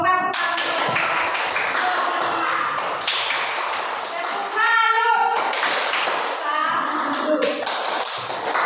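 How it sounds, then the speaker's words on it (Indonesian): Classroom applause for a student group: a sustained patter of many hands clapping at close range, with children's voices chattering over and around it. "tepuk tangan untuk kelompok 1"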